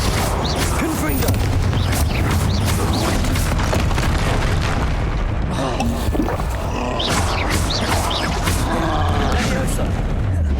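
The Confringo fire blast spell bursts amid dense combat in Hogwarts Legacy, loud booming blasts and crashes piling over one another, while a voice speaks in the thick of the noise.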